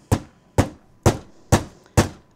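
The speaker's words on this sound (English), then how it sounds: "by hammering it flat with the big bite." A Big Bite tool is hammered to flatten a metal grommet during scrapbook crafting: five sharp, loud strikes at a steady, even pace, each with a short ringing decay, close by and with no talking.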